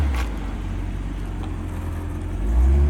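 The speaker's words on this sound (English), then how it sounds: "This is the first time we've actually had the car running more than 30 seconds." Engine of a 1984 C4 Corvette idling steadily after a new starter, vacuum-advance distributor and fuel system work, a low, even rumble that swells slightly near the end.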